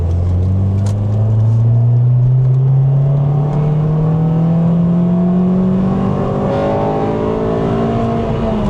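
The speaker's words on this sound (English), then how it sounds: "VTEC's kicking in." Honda Civic Type R engine revving hard as VTEC kicks in, a loud continuous climbing engine note heard up close with no talking.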